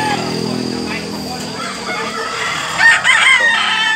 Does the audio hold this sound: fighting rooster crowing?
yes